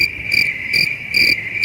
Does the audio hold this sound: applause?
no